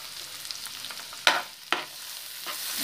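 Peas, carrots and green chili with ginger and garlic fry in a pan for paneer fried rice, giving a soft steady sizzle with a few sharp spatters and stirring scrapes, close and moderately quiet.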